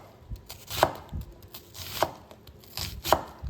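A knife chops onions on a cutting board in a home kitchen, with three sharp, evenly spaced strikes about a second apart and softer contact taps between them, close and fairly quiet.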